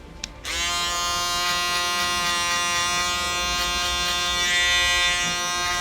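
An electric foil shaver starts up close and runs as a steady, loud buzz during a low fade haircut on a curly-haired man, holding an even drone with slight wavering.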